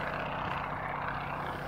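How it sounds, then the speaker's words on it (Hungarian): A yellow airplane passes overhead, a faint, steady distant engine drone holding constant throughout. "Na, ott egy szép sárga repülő"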